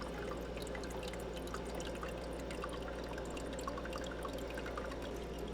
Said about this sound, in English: That little basket there fills up with water.